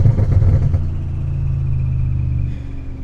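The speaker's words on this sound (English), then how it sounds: "The overrun crackles and then the whistle accompanies it." Supercharged Audi RS5 V8 heard from outside the car: a loud, deep exhaust rumble with a burst of rough overrun crackle at the start, then a sustained drone with a faint supercharger whistle above it.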